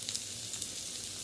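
Chicken pieces coated in turmeric, chilli powder and salt sizzle steadily as they fry in hot oil for chilli chicken, a continuous close crackle with no talking.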